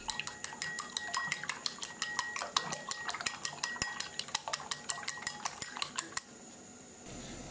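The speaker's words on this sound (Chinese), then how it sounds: "用筷子搅散备用。" Eggs mixed with salt and a little vinegar are beaten in a bowl with chopsticks, making quick, close, light clattering taps in a brisk steady rhythm for about six seconds before stopping, with no talking.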